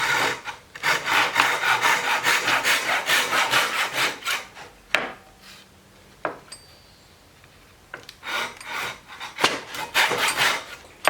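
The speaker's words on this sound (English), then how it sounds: "I'm going to cut those like this because cutting them on a miter saw is a little overkill" Small wood pieces cut by hand with a saw, a run of rapid rhythmic rasping strokes, then a pause with light clinks, then shorter bursts of sawing, close-up and with no speech.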